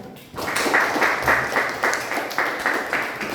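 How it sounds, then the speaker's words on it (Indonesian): A class of students applauds after group presentations in an Islamic marriage-law teaching session, with a modest, fairly rhythmic patter of clapping that swells quickly and continues steadily at close range. "Tepuk tangan semuanya"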